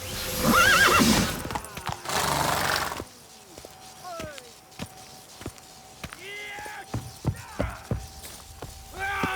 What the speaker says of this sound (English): Giddy up. Not so fast, Roach.